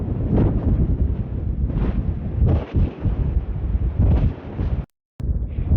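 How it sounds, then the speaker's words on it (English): Heavy wind at Black Canyon Overlook, Lake Mead, Nevada, buffets the microphone with loud, low rumbling gusts that swell and dip, briefly cutting out for a moment near the end. "Very windy right now."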